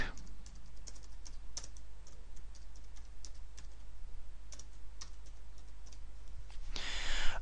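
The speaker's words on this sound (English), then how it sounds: "delete as usual using the keyboard and then type something like" Steady typing on a computer keyboard, a run of quick close key clicks in uneven rhythm over a low constant hum, ending in a brief louder burst of keystrokes.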